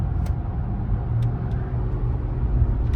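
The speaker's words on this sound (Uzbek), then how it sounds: "Mashina ovozi o'zgardi." A car engine pulls uphill after a gear change with a loud, close, continuous rumble that stays steady throughout. No one speaks.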